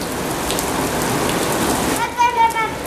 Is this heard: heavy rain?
yes